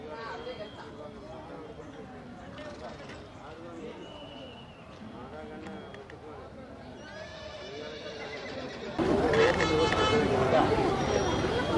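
Horses whinny at a crowded horse market at a temple fair in Anthiyur, with crowd babble and talk running throughout and the noise swelling louder near the end.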